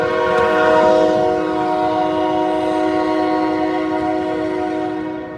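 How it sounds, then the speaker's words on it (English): A train horn blasts loud and close with a sustained, steady chord for about five seconds, fading slightly near the end, heard alone with no talking, near jersey barriers on 25th Street in Broadview. "That's not a usual thing to have the train honk their horn."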